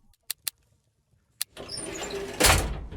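A door opens in the video game What Happened: a few sharp clicks, then a rising grinding slide that swells loudest near the end, with no voices.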